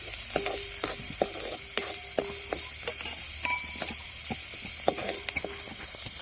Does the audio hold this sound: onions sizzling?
yes